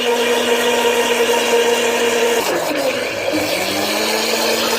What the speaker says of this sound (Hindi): हमारी मशीन जो है वो चली हुई है, देखिए शोर हो रहा है।